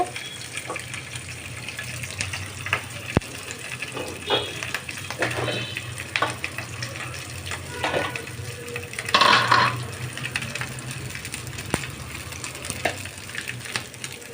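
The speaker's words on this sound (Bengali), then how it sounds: "এখন আমি আলুগুলো একটু ভেজে নিচ্ছি" Potatoes fry in a pan with a steady close sizzle and crackle, a continuous hiss broken by scattered pops and a brief louder surge partway through.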